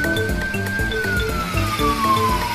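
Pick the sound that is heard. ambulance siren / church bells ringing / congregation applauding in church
ambulance siren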